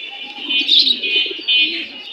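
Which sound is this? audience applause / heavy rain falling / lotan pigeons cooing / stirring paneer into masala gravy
lotan pigeons cooing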